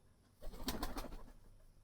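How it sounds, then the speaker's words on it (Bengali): Domestic pigeons inside a pigeon house give a brief burst of soft, low cooing lasting under a second, quiet and close against a faint background hush. "দেখেন এই যে আমাদের দেশি কবুতরটা খাবার জলটা খেতে আছে"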